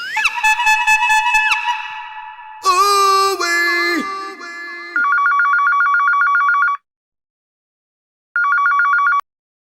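A telephone rings loudly on a nearby office desk, first with a warbling electronic trill, then in bursts of rapid bell-like pulses separated by a short silence.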